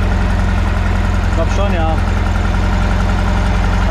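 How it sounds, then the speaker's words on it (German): An ErAZ bus engine idles steadily again after an engine-bay fire, a loud close continuous low drone with a brief spoken exchange over it. "So, die Karre läuft wieder."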